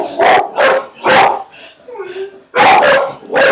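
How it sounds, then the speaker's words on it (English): Several dogs bark loudly and repeatedly at a UPS delivery man, in bursts of close, sharp barks with a brief whimper or yip between them. "My dogs do not like the UPS guy. That's why they're barking."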